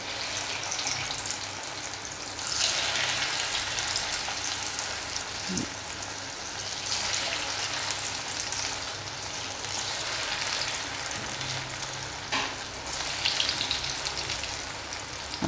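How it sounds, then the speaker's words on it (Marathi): Crispy fasting bhajji fritters frying in hot oil, a continuous close crackling sizzle with small bursts of popping that swell and settle over time. "हे बघा, व्यवस्थित भाजली जातात ती"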